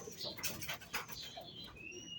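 Pigeons in a fancier's loft give soft, low coos. The calls are faint and come in a few short phrases, with a light flutter of movement and no talk.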